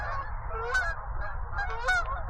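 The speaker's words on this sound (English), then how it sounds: "Lots of Canada geese going over." Canada geese honk repeatedly overhead, loud nasal calls overlapping in a small flock against a low wind-like rumble.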